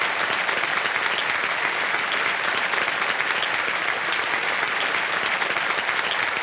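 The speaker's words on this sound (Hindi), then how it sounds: "तालियां बज जाए इनके लिए।" On the Kaun Banega Crorepati quiz show, the studio audience breaks into continuous, even applause, a thick, uniform roar of clapping with no talk over it.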